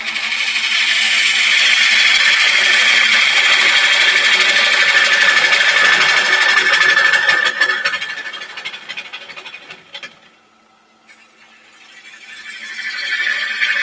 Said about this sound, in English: It's just that I've got a preference for using a gouge when I'm doing this.